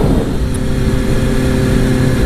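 A Kawasaki Ninja 636 ZX-R motorcycle engine running close by, a loud, dense, steady drone that holds without pause and with no voices over it.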